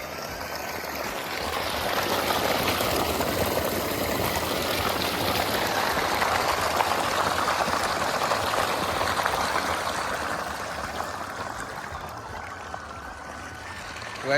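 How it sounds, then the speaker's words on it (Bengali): Irrigation water pours into a village field in a continuous broadband rush, steady and moderately loud, fading slightly toward the end, with no voices. "তো আমাদের গ্রামে এইভাবেই জমিতে জল দেয়, দেখো"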